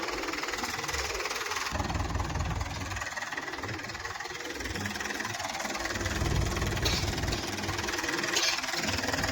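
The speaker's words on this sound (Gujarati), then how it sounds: "આ બાજુ ટ્રેક્ટર મહિન્દ્રા છે" A Mahindra tractor engine idles close by, a continuous low rumble with a faint knocking quality, running unchanged from start to finish.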